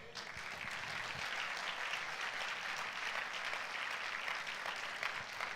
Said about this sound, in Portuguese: Você dá um aplauso ao Senhor?